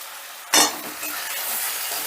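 Tomato paste drops into a pan of ginger-spiced masala with a sudden loud hiss, settling into a steady, softer sizzle as it cooks.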